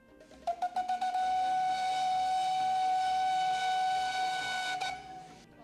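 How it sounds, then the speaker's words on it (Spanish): The whistle of the End of the World Train at a station platform in Ushuaia, Argentina blows, starting with a few quick puffs before settling into one long, steady shrill tone that fades out. "El silbato está llamando."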